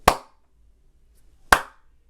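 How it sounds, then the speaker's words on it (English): Two sharp hand claps about a second and a half apart test the echo of an untreated room, each a crisp, close snap with a brief ring-out and silence between. "We'll do a clap test."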